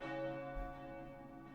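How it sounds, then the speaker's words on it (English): A single bell tone rings and slowly decays within a quiet music track from the rhythm game Cytus, resonant and sustained. "Nice, we have a bell."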